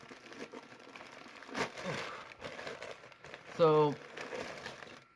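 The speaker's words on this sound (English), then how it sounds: "Alright, I got to unwrap this piece here." Thrift store mug being unwrapped from its wrapping: continuous crinkling and rustling close by, with a louder crunch near the middle and a brief spoken word.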